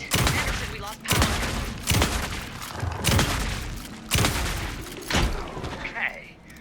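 Gunfire in Alan Wake 2: a loud, close volley of shots comes in regular bursts about once a second, with a voice speaking between them.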